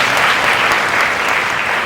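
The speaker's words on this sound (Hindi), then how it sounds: "ताली बजा के परमेश्वर को धन्यवाद दीजिए।" A church congregation at a prayer service claps continuously and loudly, a dense wash of applause with no pauses.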